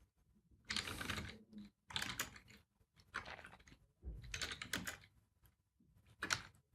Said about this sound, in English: we're going to type in the artist name